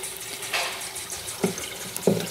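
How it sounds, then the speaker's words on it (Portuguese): Water from a tap runs into a kettle in a home kitchen, a steady close splashing stream with a few louder knocks and clinks along the way. "Eu vou agora encher a chaleira, ó, colocar água"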